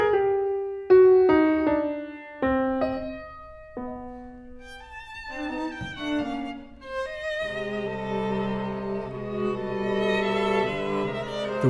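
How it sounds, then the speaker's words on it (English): A soprano sings an excerpt from Zemlinsky's Lyric Symphony. A few short, struck accompaniment notes open it, then her sustained, vibrato-rich line rises over a fuller accompaniment. "What Zemlinsky quotes in this quartet comes from his lyric symphony, and it's sung by a soprano."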